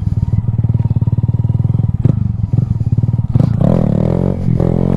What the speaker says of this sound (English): Let's try a little bit of a wheelie here.